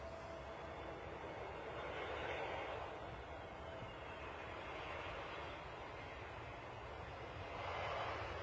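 Airliner in Play livery landing at London Stansted, a distant continuous jet roar with swelling rumble and hiss, fairly faint and alone.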